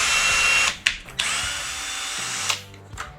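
A Ryobi 1/2 inch drill driver runs with a high, steady whine, then stops and restarts in several short bursts, with a few clicks and clunks between runs.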